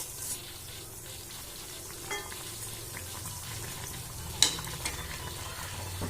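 Chicken kameera pieces frying in hot oil, a steady soft sizzle with bubbling and occasional scrapes as they are turned, close and with no voices.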